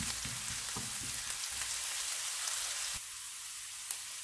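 Ginger and garlic frying in a pan for a Punjabi chicken curry, a steady close hiss and sizzle with soft crackles and a few stirring knocks, no voices.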